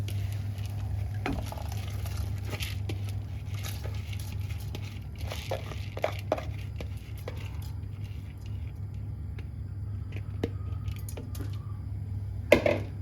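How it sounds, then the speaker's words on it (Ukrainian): Rinsed buckwheat goes into a pot of boiling water in a home kitchen, giving soft pattering and a few utensil clinks over a steady low hum. "Водичка наша закипіла. І ми переміщаємо сюди промиту нашу вежечку."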